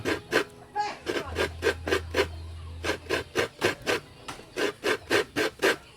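Coconut flesh being grated with a hand scraper, about twenty rhythmic rasping strokes at close range in quick, even bursts, with a low hum running briefly under the middle strokes.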